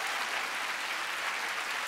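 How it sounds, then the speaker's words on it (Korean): A studio audience at a Korean TV music talk show breaks into dense, steady applause, a continuous wash of clapping that fills the whole moment without a break. "박수 일단 부탁드리도록 하겠습니다."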